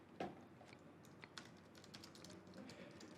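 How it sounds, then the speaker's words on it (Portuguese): Keys tapped on a computer keyboard while entering a command in a terminal, a quiet, uneven run of close clicks with no talking. "basta abrir seu terminal e digitar o comando Python"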